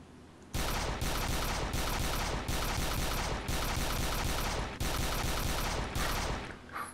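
Gunfire in the video game DayZ: loud, rapid automatic bursts that hammer almost continuously in several long volleys, with brief breaks between them and no one talking.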